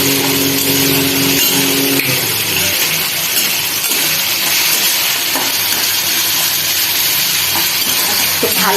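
Flattened-rice pulao with green chili fries in a pan, producing a loud, continuous sizzle and hiss with some stirring scrapes.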